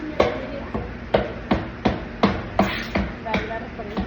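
A hammer strikes repeatedly in an even rhythm, about ten sharp, close blows over a few seconds, with faint voices in the background.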